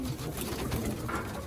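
Pigeons in a loft cooing softly, a brief low murmur of calls against a noisy background, with no clear speech.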